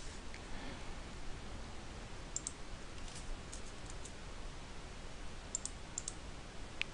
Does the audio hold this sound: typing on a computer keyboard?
yes